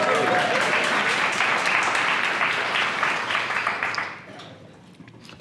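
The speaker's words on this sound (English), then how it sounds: "You can clap right there" Church congregation clapping together in a dense, steady burst of applause that fills the room, then thins out and fades over the final second or so.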